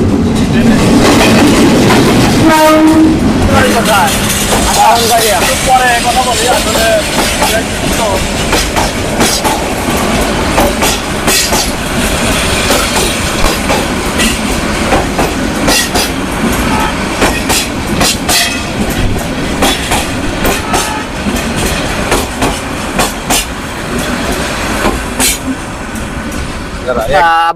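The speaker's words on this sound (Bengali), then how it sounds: "এদিকে আসো ট্রেন আইতেছে" A train rumbles and clatters loudly through a Bangladeshi railway station, with a brief horn-like tone near the start, while people talk over the steady noise.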